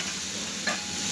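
Prawns and okra frying together in a pan are stirred once, a steady close sizzle with a short scrape partway through.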